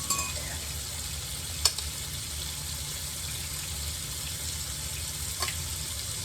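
Pork chops sizzle steadily in a creamy garlic sauce in a pan, a constant close hiss with an occasional soft clink of a utensil as it is stirred.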